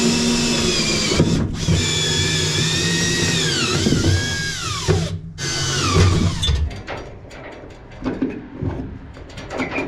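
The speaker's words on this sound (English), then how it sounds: "I'm gonna go drill out the rest of these holes so that way I can actually rivet these" A power drill bores rivet holes, its motor whining and pitching up and down through several close, loud bursts, with brief pauses between holes and a rougher grinding stretch near the end.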